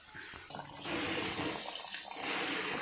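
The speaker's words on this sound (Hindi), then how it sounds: "ये पानी की जो लाइन है इसमें से पानी कंटिन्यू बाहर निकल रहा है" Water pours continuously from a farm water line into a drain, a steady loud rushing and splashing that swells after the first second and keeps going without a break.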